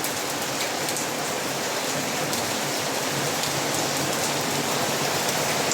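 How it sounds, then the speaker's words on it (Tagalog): Heavy rain pouring down in a steady, dense hiss of drops hitting surfaces, unbroken and fairly loud, with no voices. "Grabe lakas ng ulan"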